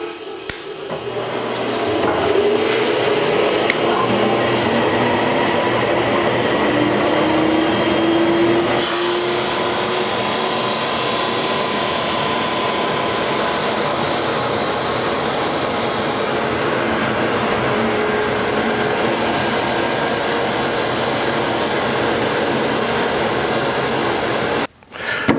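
Supermax 1632 drum sander and its dust collector run together as a loud, steady machine roar, the collector droning throughout with the sander's hum layered on and a workpiece feeding through; the whine shifts partway, then cuts off abruptly near the end.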